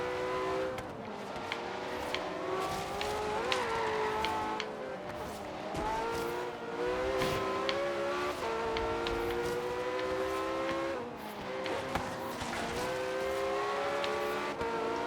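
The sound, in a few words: car driving and revving in Forza Horizon 3 video game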